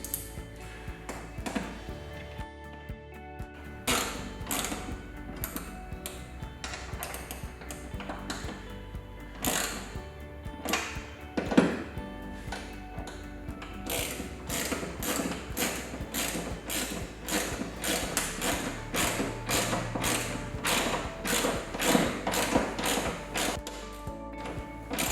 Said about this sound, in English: we're going to grab our ratchet and our Allen key for these particular bolts